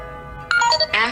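A phone ringtone chimes in a bright, tonal melodic burst of a few notes, loud and close, starting abruptly after a moment of quiet.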